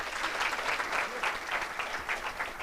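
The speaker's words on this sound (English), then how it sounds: "So clap for yourselves." An audience at a climate justice summer school in Nairobi claps together, a dense, sustained patter of many hands with a gently pulsing rhythm, moderately close and without speech over it.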